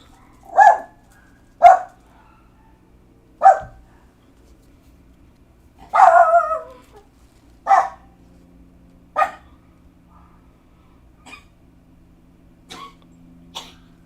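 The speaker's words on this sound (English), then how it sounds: "The neighborhood dogs are barking." Neighborhood dogs bark in scattered single and paired woofs across the stretch, fairly loud and somewhat distant, separated by quiet gaps with a low steady background hum.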